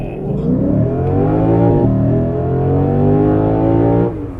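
A 2022 Lexus IS 500 V8 launches from a brake boost, the engine roaring loud and close with a steady high rev, a brief dip, then a long rising pull before cutting off near the end.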